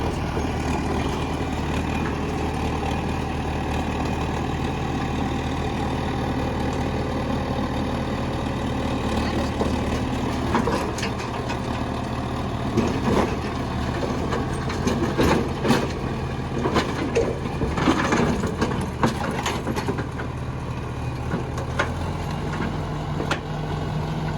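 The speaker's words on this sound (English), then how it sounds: "It's a loader slash dozer." A small John Deere 75 crawler loader-dozer runs steadily near a pond on a homestead, its low diesel engine droning and idling continuously with slight rises in revs, moderately close and alone without talk.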